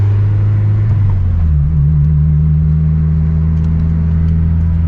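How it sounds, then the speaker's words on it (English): Honda S2000 sports car on a test drive, its engine droning steadily with a low rumble that rises slightly in pitch partway through, close and continuous with no talk. "let's get the car back on the ground and go for a little test drive"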